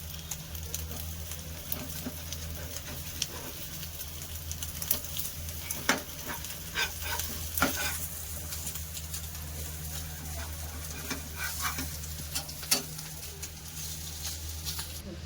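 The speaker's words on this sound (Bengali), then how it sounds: "আমি এইভাবেই সব কটা ডিম এইভাবেই ভেজে নেব" Eggs fry in a pan for an omelette, a soft, steady sizzle with occasional light taps and crackles, fairly quiet and close, with no talking.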